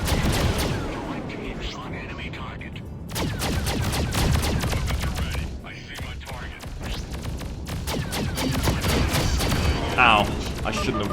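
Rapid bursts of gunfire and explosive booms from a shooter video game roll on almost continuously, loud and dense, with a player's voice talking over the action.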